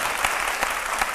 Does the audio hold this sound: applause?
yes